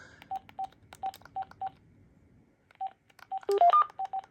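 Short keypad tones from an AT&T CL83464 cordless phone beep one after another in an uneven rhythm, a quick run, a pause, then another burst of dialing tones, fairly faint and clear.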